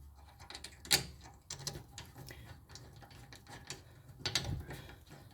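Caliper bolts being threaded in and tightened on a 2011–2017 Toyota Sienna during a brake pad job, heard as a few faint metallic clicks and ratcheting ticks, with one sharper clack near the start and another toward the end, close by.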